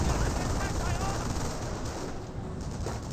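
Continuous bursts of machine-gun and rifle fire in the Company of Heroes real-time strategy game, dense and loud, with a rumbling battlefield background.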